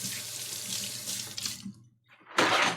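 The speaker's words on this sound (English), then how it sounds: "Let me give my hands a quick rinse here." Water running from a kitchen sink tap while hands are rinsed beneath it, a steady broadband splash that cuts off briefly near the end before the flow resumes, close and clear with no talking.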